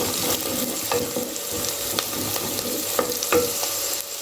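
Sliced onion being stirred into leftover dosa batter in a bowl, steady wet mixing sounds with regular soft knocks of the spoon about once a second, close and alone.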